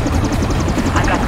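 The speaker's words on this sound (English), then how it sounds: "Oh, helicopter." A police helicopter in Need for Speed Most Wanted (2005) chops overhead with a steady rapid rotor pulse throughout, mixed under engine noise and game sound.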